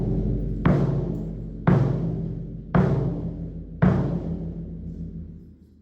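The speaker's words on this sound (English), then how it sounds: "So you get a long bass drum sound like this" Bass drum struck four times at an even, unhurried pace, each stroke left undampened so its deep boom rings out long and fades slowly before the next hit.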